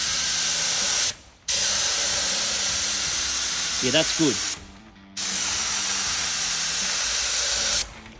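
A spray gun hisses continuously while paint goes onto a car hood in a body shop, in long loud bursts broken by brief pauses, with a short spoken remark between passes.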